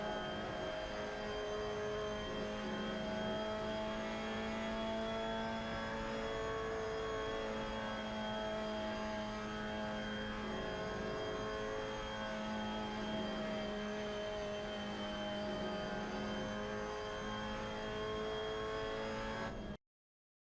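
A Mazda MX-5 Cup car in the Assetto Corsa racing game laps Mugello, its engine a steady mid-distance drone with shifting harmonic tones as it holds and eases off speed, cutting out abruptly at the end.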